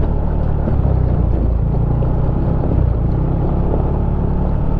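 A Yamaha NMAX scooter rides along the road to Coto Mines in Masinloc, Zambales, its engine and wind producing a steady, loud rumble with no breaks throughout.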